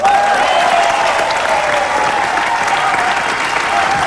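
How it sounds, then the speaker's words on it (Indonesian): A studio audience at an Indonesian TV comedy talk show applauds, a dense, steady wash of clapping that holds at an even, loud level from start to finish, with no voices standing out. "Tepuk tangan dong teman."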